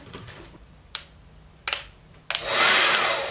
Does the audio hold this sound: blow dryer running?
yes